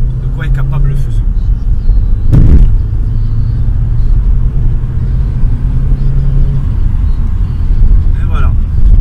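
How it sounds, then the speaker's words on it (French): A Ford Fusion car accelerating on a rough, broken road, its engine a loud, close, steady rumble and drone that holds for the whole stretch with one brief louder thump. "Je vais essayer de faire une petite accélération, juste pour vous dire, pour vous montrer un peu de quoi est capable le Fusion"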